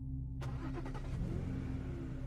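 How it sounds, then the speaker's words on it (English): A car starting up and driving off as a sound effect in a story podcast: an engine catches abruptly and revs, a steady mid-pitched motor rumble that carries on close by, with no voices. "Larry drove for about 5 minutes through the desolate streets of Hamburg, which is a quiet suburb just outside of Buffalo, New York"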